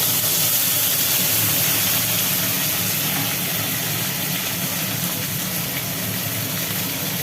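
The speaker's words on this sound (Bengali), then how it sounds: "পড়ে গেল টমেটো" Tomato dropped into hot oil with black cumin in a kadai gives a loud, continuous, close sizzle, a dense even hiss that barely fades and has no talking over it.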